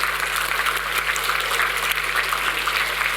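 A church congregation at a Sunday worship service applauds, a dense, continuous roar of many hands clapping together at an even level throughout.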